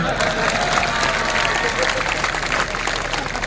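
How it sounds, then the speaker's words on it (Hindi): A political rally audience claps in a sustained, dense burst, with a speaking voice heard faintly through the applause. "तालियां।"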